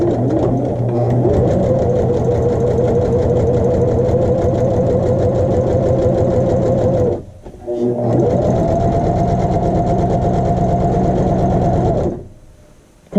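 A sewing machine stitches a French seam in fabric, running at a steady, loud motor whirr for about seven seconds, breaking off briefly, then whirring again before stopping near the end.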